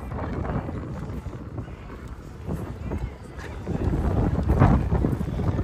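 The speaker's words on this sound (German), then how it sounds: "Ah, es ist windig." Gusty wind blows outdoors on a city street during a storm warning in Berlin, a steady rushing buffet that swells louder toward the end, with someone talking over it.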